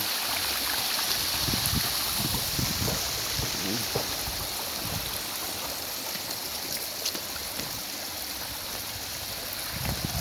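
A large river in Samar carries water down from the mountains, giving a steady, continuous rushing flow that stays close and even for the full length with no break.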